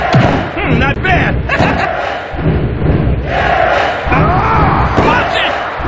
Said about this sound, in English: Listen to this crowd! What's going on here? It's so loud I can hardly hear you, Shane.